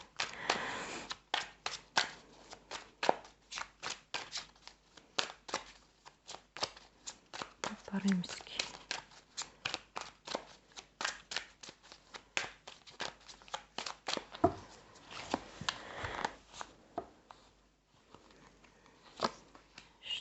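Playing cards are shuffled by hand at close range in a long run of crisp riffles and flutters, with a voice talking over part of it.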